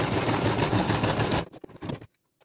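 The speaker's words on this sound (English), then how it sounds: "I'm going to just sew them together around the border" Sewing machine stitching felt pieces together around the border, a steady fast mechanical whir running for about a second and a half, then a few short bursts before stopping.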